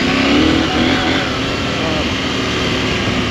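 A 2021 KTM 890 Adventure R motorcycle rides over potholes, its mid-pitched engine drone loud and continuous throughout, mixed with rushing wind noise.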